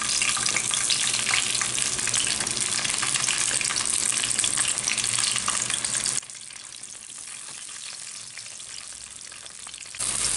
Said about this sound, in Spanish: Voy a dorar 3 chiles serranos y 2 cebollines